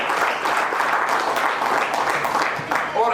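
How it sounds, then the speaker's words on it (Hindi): Applause at a corporate success meet in Jaipur for a guiding mentor, steady and dense clapping from a seated crowd throughout, with a voice briefly starting up near the end. "इसके लिए तालियां बजाएं"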